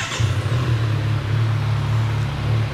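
A 2025 Kawasaki Z1000R inline-four motorcycle engine idling after a restart, warm at 82 Celsius, a steady deep close rumble that holds smooth and even with no revving and no voices.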